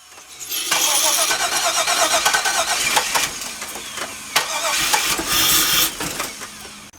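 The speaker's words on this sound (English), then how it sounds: "So I hope that backfire looked really cool." A Chevrolet Camaro SS, apparently running on bad fuel, is cranked and fires into a loud, rough, uneven engine roar with sharp pops and bangs mixed in, close by for several seconds.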